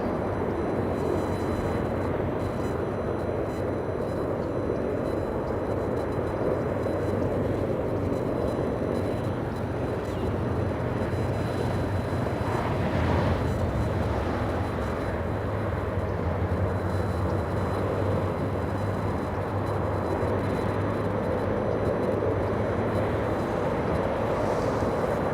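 Marine One, the presidential helicopter, lifts off at LAX with a steady, loud rotor and engine roar that fills the whole scene, swelling slightly midway, with no talk heard.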